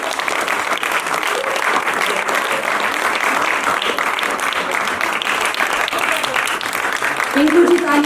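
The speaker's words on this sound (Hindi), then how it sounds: "आप तालियां बजाते रहिए" Loud, sustained audience applause fills a large hall, dense and even throughout, with a voice briefly audible over it near the end.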